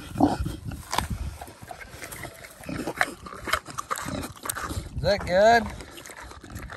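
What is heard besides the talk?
boar (male pig) named Damascus, offered an apple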